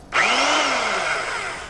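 A Bauer 20 volt cordless drill from Harbor Freight spins up loud and close, a steady whining motor run that holds for under two seconds after a sharp start.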